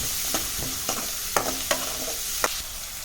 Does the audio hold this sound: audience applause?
no